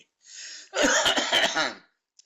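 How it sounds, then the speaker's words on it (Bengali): A man with a sick, hoarse throat coughs in a loud burst of several harsh hacks after a short throat-clearing breath, then falls silent. "আমার এই অসুস্থ ভাঙ্গা গলায় কাশি আসে"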